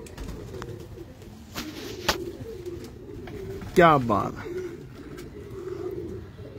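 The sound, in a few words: pigeons cooing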